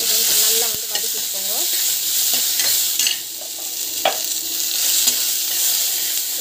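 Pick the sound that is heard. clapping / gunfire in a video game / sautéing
sautéing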